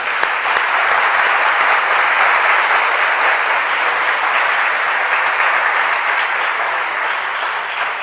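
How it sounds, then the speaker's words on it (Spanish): A seated audience claps together in sustained, dense applause, loud and even for the whole stretch without pause. "pediros pues un aplauso colectivo para todos nosotros"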